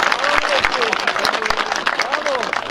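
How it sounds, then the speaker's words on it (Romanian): Applause and clapping for a child at a youth under-13 football award ceremony, a dense steady patter from a crowd with voices talking over it throughout. "Hai să o aplaudăm pe Denis"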